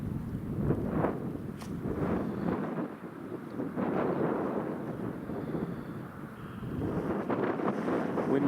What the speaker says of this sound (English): Wind audible but not too bad.